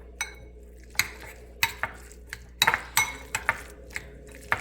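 A utensil scrapes and clinks in a pan while onions are stirred for a tuna sandwich, giving a dozen or so sharp metallic taps and scrapes at irregular intervals over a faint steady hum, close by, with no talking.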